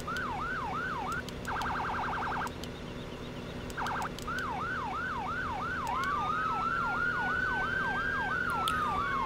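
A fire truck siren in the farming game Farming Simulator 17 wails in repeated rising and falling sweeps, switches briefly to a rapid yelp, then returns to the wail with a long rising tone, loud and continuous with no talk.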